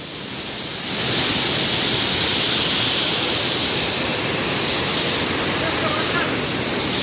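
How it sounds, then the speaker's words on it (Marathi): A big waterfall up in the Konkan hillside pours in a constant broad rush that swells louder after the first second and then holds steady, with a faint hint of wind. "इकडे वरती एक मोठा धबधबा आहे."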